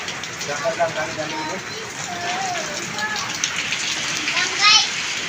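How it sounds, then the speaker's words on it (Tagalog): Steady rain patters on a surface, a broad hiss filling the scene, while voices talk and children shout in the background. "Nag-ulan ngayon guys"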